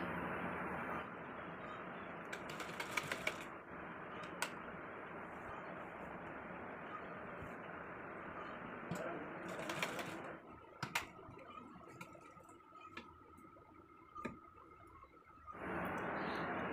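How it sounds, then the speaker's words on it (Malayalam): A sewing machine stitches the bottom edge of a cigarette pant slit in a steady, fast mechanical whir, running continuously with brief pauses near the end before starting up again. "അപ്പോൾ നമ്മൾ ഈ ഒരു അടി വശവും കെട്ടിട്ട് സ്റ്റിച്ച് ചെയ്ത് കൊടുത്തിട്ടുണ്ട്"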